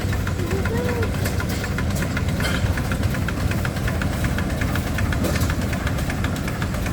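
A 65 horsepower Case steam traction engine runs steadily in a parade at an antique machinery festival, its continuous low engine chugging loud and close throughout, with crowd and voices faintly mixed in.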